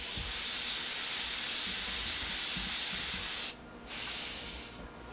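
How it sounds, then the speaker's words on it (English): An airbrush sprays Sunrise Yellow Kratex paint straight from the bottle onto a black shirt, a loud, steady close hiss that cuts out briefly and then resumes before tapering off. "I'm gonna spray it on the inside and blow it out to the blue"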